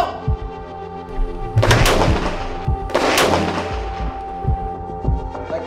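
Artillery fires two heavy, booming rounds about a second and a half apart, each a loud blast with a rumbling tail, amid smaller thumps and clatter, with no speech.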